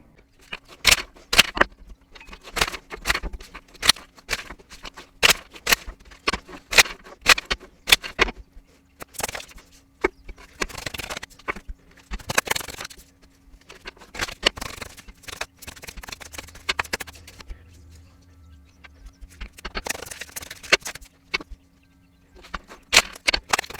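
A deck of cards being shuffled again and again: quick crisp riffles and snaps in bursts, close by, with no voices.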